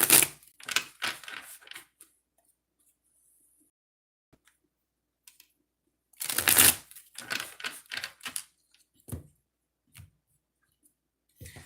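Two bursts of rapid riffling clicks from cards being shuffled, separated by several seconds of near silence.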